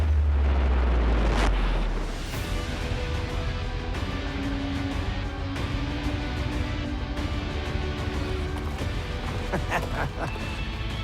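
A powerful explosion at a bomb range opens with a deep booming blast that rolls away into a long, loud rumbling wash of debris and echo.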